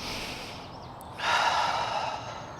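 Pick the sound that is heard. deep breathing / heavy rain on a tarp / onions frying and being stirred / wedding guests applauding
deep breathing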